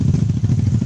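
Engine of an inexpensive habal-habal motorcycle in Northern Samar, a short, loud, close burst of pulsing mid-rev chugging with no talk.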